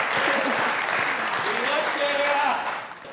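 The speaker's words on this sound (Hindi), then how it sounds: "शेरा के लिए तालियां।" Dense crowd applause fills the clip, clapping throughout with voices and cheers mixed in, fading slightly at the end.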